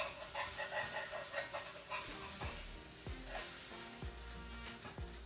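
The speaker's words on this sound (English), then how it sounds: "Grab your spatula and then press out your patty." An Impossible meat vegan patty sizzles in a pan with butter and olive oil, a loud continuous crackle with several scraping thumps as a spatula presses the patty down.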